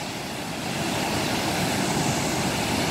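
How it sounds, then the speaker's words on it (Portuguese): Strong river current rushing through the Mata Cobra dam in Chapada, RS, a steady loud broadband roar of churning water that holds constant throughout with no voices. "Olha como está forte a correnteza."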